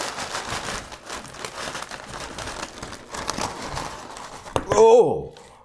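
Crinkling of a brown paper sack used as packaging, steady rustling that builds into a louder crumpling burst near the end, with someone talking over it.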